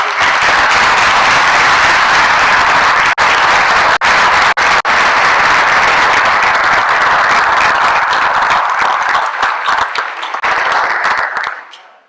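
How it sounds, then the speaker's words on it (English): Loud, sustained applause from a large conference audience fills the room for several seconds, gradually thinning out and fading at the end. "we should have a round of applause for the conference organizer"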